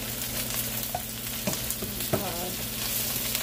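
Shrimp sauté in a hot pan with a dense, steady sizzle, broken by a few light utensil taps and the soft sound of pieces being flipped, no talking.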